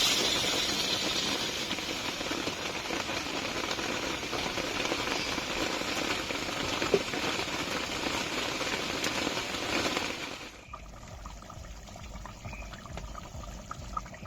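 Hot water pours and sizzles into mutton curry cooking in a pan, a steady loud rushing hiss for about ten seconds before dropping to a quieter bubbling simmer.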